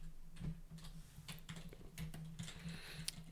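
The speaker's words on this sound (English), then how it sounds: "hold Shift, and press the arrow keys over." Arrow keys on a computer keyboard are tapped in a quick, uneven series of soft, close clicks while working in Toon Boom Harmony animation software in a quiet room.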